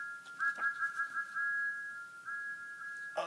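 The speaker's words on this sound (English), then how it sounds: "Whistling joyfully, he plunged into the tunnel" A sustained, fairly faint steam train whistle holding one steady high tone for about three seconds as it enters a tunnel, with slight wavering at the start and a brief fade near the end.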